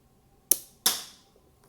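A mini Lego model of the EMBR gun fires two sharp, snappy shots about a third of a second apart, each a bright crack with a short decaying tail, close and alone.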